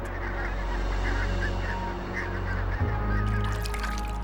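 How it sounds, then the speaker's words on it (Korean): Black-tailed gulls call over a tidal mudflat where an urban stream meets Masan Bay. Repeated honking cries rise and fall over a steady wash of background noise and continue throughout. "누구보다 물 빠질 때를 훤히 꿰고 있는 괭이갈매기."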